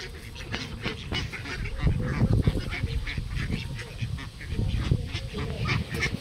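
An army of ducks honking and quacking excitedly while being fed, a dense, close, continuous clamor of overlapping calls.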